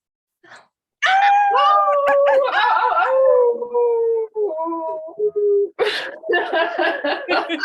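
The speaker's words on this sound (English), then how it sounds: "Oh my God, a puppy!" A puppy howls in long, wavering, pitch-sliding cries, loud and close, pausing briefly before a fresh burst of yowling near the end; no speech is heard alongside it.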